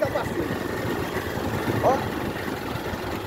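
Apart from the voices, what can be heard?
motorcycle passing by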